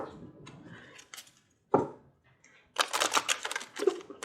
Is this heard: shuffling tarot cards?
yes